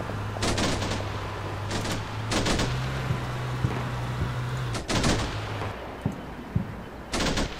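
Bursts of gunfire aimed at a mosque in the Combat Mission Shock Force video game, sharp volleys and rattling automatic fire repeating over steady background ambience with a low hum.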